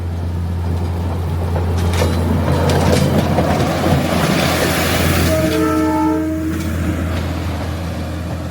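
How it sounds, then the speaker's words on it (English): A cargo train rumbles past a slum in Kibera, Nairobi, Kenya, with a loud, continuous low drone and a clattering passage. Partway through, the train sounds several sustained, tonal horn blasts close by. "So that is a Cargo train."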